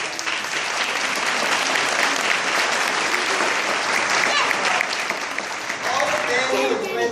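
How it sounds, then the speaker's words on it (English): Crowd applause for family members in attendance at a gathering, loud sustained clapping from many people throughout, with a few cheers and voices near the end. "Give yourself a round of applause."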